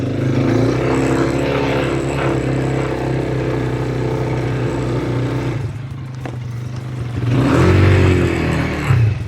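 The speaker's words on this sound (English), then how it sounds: "My bike won't make it. I think I'm stuck." A motorbike engine stuck in desert sand near Dubai drones loudly and steadily up close, dips briefly, then revs up again with rising pitch, no talk over it.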